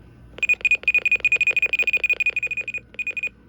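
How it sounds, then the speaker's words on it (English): A Reecom R-1630 weather radio gives a rapid run of about two dozen short, even electronic beeps for an invalid menu button press, close and clear, pausing briefly before a final few. "I believe that's invalid menu button beeps"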